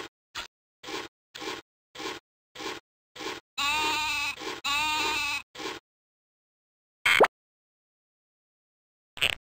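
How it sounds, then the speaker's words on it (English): A recently shorn ewe on a farm bleats about ten times in a row. The calls are short and evenly spaced, with a couple of longer, louder cries in the middle, and two more isolated bleats come after a pause. "A ewe is a female sheep."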